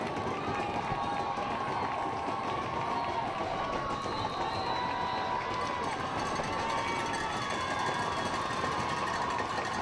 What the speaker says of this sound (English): the crowd is really into it at this point